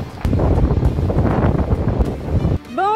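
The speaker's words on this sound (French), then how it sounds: "j'ai pas mal de vent" Heavy wind buffeting a microphone during a marathon run, loud rumbling gusts that pulse irregularly, then drop off abruptly near the end.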